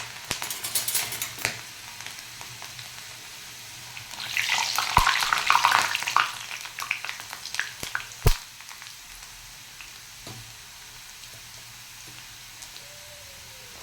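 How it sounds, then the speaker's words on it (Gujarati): Okra dropped into hot oil on full flame, with a burst of crackling sizzle rising midway and then fading to quieter frying, plus a few sharp clicks and knocks of utensils. "હવે એમાં આપણે આ ભીંડી થોડીક આવી રીતે એડ કરી દેવાની. અને તેલ ફૂલ જ રાખ્યું છે"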